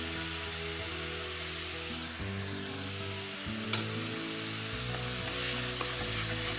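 Chopped onion and ginger-garlic paste fry in a hot pan with a steady close sizzle, joined by a rising hiss and occasional stirring scrapes, with no talking.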